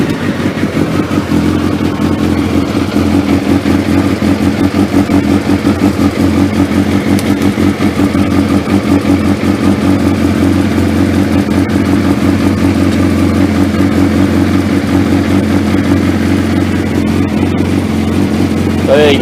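Suzuki GSX1300R Hayabusa motorcycle engine, checked for a starting problem, idling steadily and loudly up close with an even, throbbing tick-over that holds throughout.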